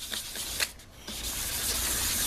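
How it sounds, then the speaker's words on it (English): Wet rubbing and scrubbing of 400 grit sandpaper across a car headlight lens, close and brisk with short strokes, then a brief lull before a steadier hiss of sanding. "now we're going back to our most coarse sandpaper, which is a 400. I'm going to sand it back down again."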